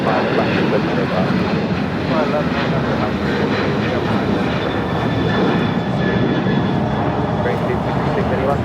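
American 477 Heavy jet taking off at LAX, a loud continuous engine roar filling the air throughout, with a radio voice talking over it.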